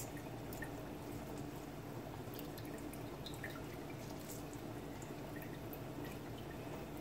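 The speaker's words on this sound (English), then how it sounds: "Now I'm gonna strain this." Rice cooking water strains through a strainer in a home kitchen, giving a faint, steady patter of drips and trickling liquid throughout, with no voices.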